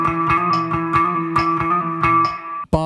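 Electric guitar playing bar 13, a rhythmic repeating riff of short picked notes with steady sustained tones and light effects, close and clear, ending with a quick scrape; no talking.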